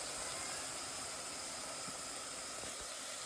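Diced onions sizzle in olive oil in a pan, a steady, even hiss with faint crackle throughout, fairly quiet and without talk.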